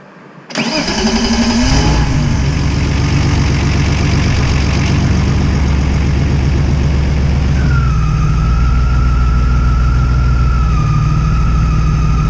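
A BMW E36 engine with individual throttle bodies cranks briefly and catches, then settles into a loud, close, steady idle with a rough pulsing rumble and a slight shift in tone partway through.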